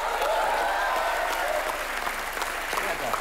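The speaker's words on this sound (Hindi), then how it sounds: "इनके लिए भी जोरदार तालियां" A studio audience on the comedy show Comedy Nights With Kapil breaks into loud, sustained applause, with a voice carrying over the clapping.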